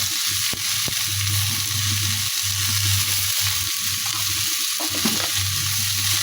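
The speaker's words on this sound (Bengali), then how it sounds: "আলু বড়ি দিয়ে ঝোল হচ্ছে দেখো" A pot of curry with potatoes and fried lentil dumplings (bori) simmers and sizzles steadily, a continuous frying hiss with a low bubbling hum and a few sharp ticks, with no talking.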